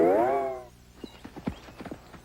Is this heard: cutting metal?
no